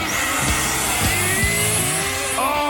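Several RC short course trucks, including a modified SC10 and a Team Associated truck, race with high-pitched electric motor whines rising and falling as they accelerate, loud and close, with no talking.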